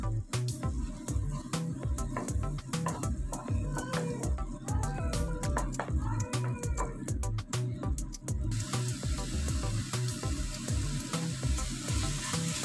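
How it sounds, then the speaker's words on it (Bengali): Spice paste of Kashmiri chili, coriander and cumin powder frying in a pan for an aloo-brinjal curry, a low continuous sizzle with rhythmic stirring taps running throughout, no talk. "মশলাটাকে একসাথে মিশিয়ে নিয়ে ভালোভাবে ফ্রাই করে নিতে হবে।"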